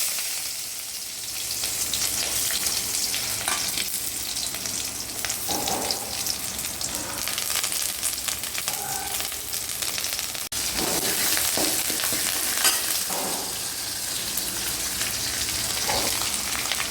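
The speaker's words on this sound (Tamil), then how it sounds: "பாவக்காய் தாளிச்சிக்கலாம்." Bitter gourd tempering in a hot pan, a steady crackling sizzle of frying oil with scattered pops and occasional stirring scrapes, continuous and close throughout.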